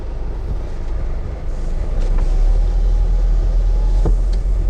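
A 2019 Mercedes-Benz Metris passenger van on a test drive, with a steady low road and engine rumble plus wind noise that swells slightly midway and holds at an even, close level throughout.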